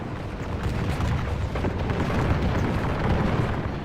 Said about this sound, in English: They've been pummeled with grenades.